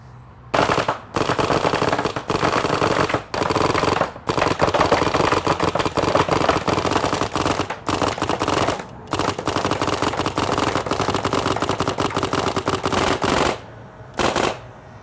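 A Bob Long Victory paintball marker firing about 26 balls per second, loud close rapid-fire bursts in long continuous strings broken by brief pauses, with no talking.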